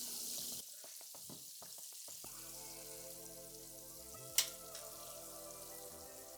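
Jumbo shrimp frying in hot oil, a steady crackling sizzle running throughout with a brief sharper pop partway through, close and moderately loud, no voices.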